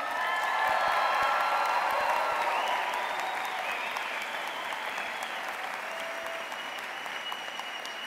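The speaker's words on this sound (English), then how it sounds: "Can we have one more round of applause?" A graduation commencement audience for a college of social work gives a loud, sustained round of applause, with scattered cheers and whoops, strongest early and then easing to a steady, fuller clatter.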